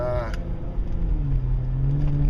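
A soft top Jeep is being driven, its engine hum and rumble running steadily under loud wind noise, with a voice talking over it at the start.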